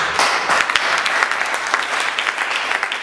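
Enthusiastic audience applause for students at a French-language training session: dense, continuous clapping from a room full of people, loud and close throughout, with no talking on top.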